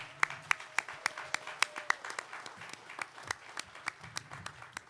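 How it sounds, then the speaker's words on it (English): At a delegate assembly, a fairly quiet room breaks into scattered clapping, distinct individual claps ringing out over a few hands, with a low background murmur beneath. "She deserves a big round of applause."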